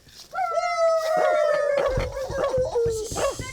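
A dog gives a long, sustained howl that slowly falls in pitch, broken by yips and whimpers near the end, close and fairly loud.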